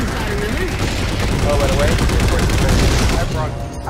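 An incineration cannon fires in Halo 4 Spartan Ops, a loud dense burst of blasts and explosive rumble filling the scene, with a player's voice briefly over it.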